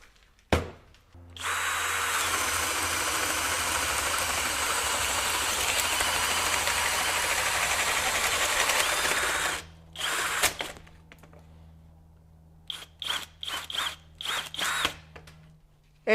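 A Kobalt KHD124 24V brushless hammer drill bores with a large 2 9/16 inch bit, a loud steady motor whine lasting about eight seconds, then stopping, followed by several short bursts of trigger pulses, near and with no talk.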